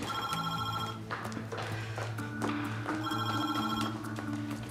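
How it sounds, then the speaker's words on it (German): A telephone rings in a German crime-drama scene, its repeating electronic ring pattern sounding in steady bursts at close range over a soft musical underscore, with no talking. "Telefon."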